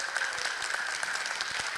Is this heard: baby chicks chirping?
no